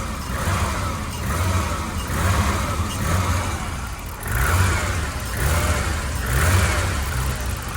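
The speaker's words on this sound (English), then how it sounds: "At least it revs now, huh?" A BMW 635 CSI engine is revved repeatedly, several rising and falling surges in a regular rhythm over a rough idle, close and fairly loud.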